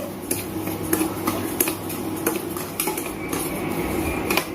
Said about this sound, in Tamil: ரவையை போட்டு பொன்னிறமாக வறுத்துக்கலாம், ரொம்ப வறுக்கக்கூடாது